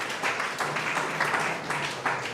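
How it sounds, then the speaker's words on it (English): An audience at a business summit applauds in a steady wash of overlapping claps, moderately close and even in level throughout the short burst, with no voices over it. "Come on, give yourself a round of applause."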